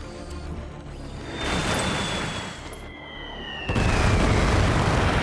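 Airstrike explosions in the StarCraft video game, playing as Nova: booming blasts that swell and fade, with a sharp louder burst near the end and thin whistling tones sweeping over the rumble.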